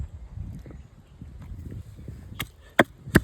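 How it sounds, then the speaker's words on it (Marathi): Dried Bombay duck fish is pounded in a mortar and pestle, with soft irregular knocks building to three loud, sharp thuds close by near the end. "आपण आता बोंबील खलबत्त्यामध्ये जाड बारीक कुटून घेऊ चटणी बनवण्यासाठी."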